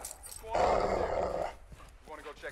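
Caged dog in a realistic war video game growls in a deep, rumbling roar lasting about a second, mixed with game sound and followed by faint speech.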